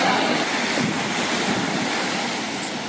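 Big surf waves break and roll in continuously on a Koh Tao beach in Thailand, a loud, steady broadband wash with wind buffeting the microphone throughout.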